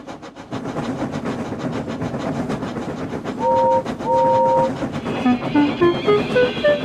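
Animated Trainz railway scene with a train running on rails, steady rumble and rhythmic clickety-clack, with brief whistle toots partway through and a rising tone near the end.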